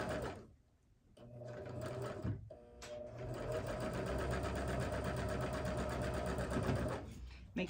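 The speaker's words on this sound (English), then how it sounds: "Let's get this one sewn up." A sewing machine stitches a quilt block in steady, rapid, close runs, pausing briefly near the start and again at the end.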